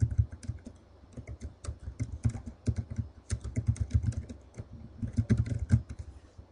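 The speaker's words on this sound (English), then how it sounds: "Just type, hello, my name is," Computer keys click at close range in a fast, uneven run of short taps with brief pauses, alone and without talk.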